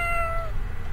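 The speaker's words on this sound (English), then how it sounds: "the cat says meow." A recorded cat meow plays when an image button is tapped in the HelloPurr phone app. It is a single clear, fairly loud meow with a falling pitch, heard alone.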